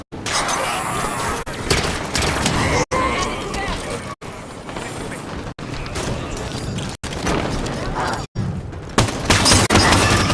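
Rapid bursts of gunfire in the video game Halo 5: Guardians, loud and nearly continuous across the clip, broken by brief silent cuts and mixed with game effects and speech.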